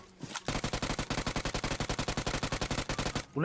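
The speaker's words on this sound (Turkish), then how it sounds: "Bakın kardeşim vurdu şu an." Rapid automatic gunfire from PUBG Mobile, a fast, even burst of about three dozen shots over a few seconds, loud and close with no pauses.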